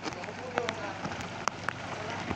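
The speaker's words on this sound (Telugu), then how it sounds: "వర్షం పెద్దదవుతుంది." Heavy rain pours steadily onto a flooded area with standing water, a dense continuous hiss with scattered louder drop impacts, close and loud throughout.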